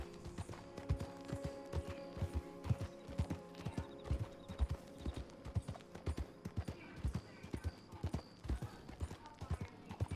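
Horses in the Red Dead Redemption 2 game walk with a steady, close clip-clop of hooves and give an occasional whinny, continuing across the whole stretch under a low game ambience and light talk.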